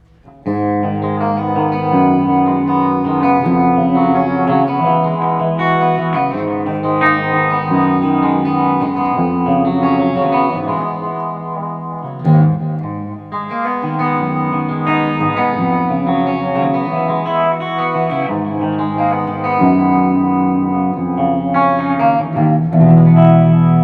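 A heavily distorted EVH 5150 electric guitar plays sustained chords and melodic lines, with a brief dip midway before continuing loudly.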